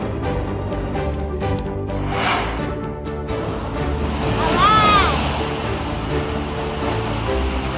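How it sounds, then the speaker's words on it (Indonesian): Large ocean waves surge and crash against a coastal seawall on a shoreline, a loud, continuous roar of churning surf with swelling bursts throughout. "Ombak besar menjebolkan tanggul penahan ombak di wilayah pesisir Pasar Padang"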